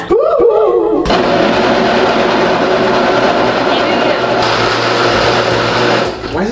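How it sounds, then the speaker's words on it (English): A blender churns a large batch of ice slush with a loud, steady roar that fills the space, while voices speak over the motor at the start. "Did my blender die?"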